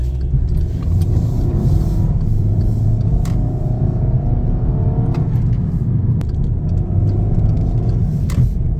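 A Volkswagen 1.8L turbo engine with a P2279 fault idles with a steady low rumble, close up, with a few faint ticks and clicks over the continuous drone.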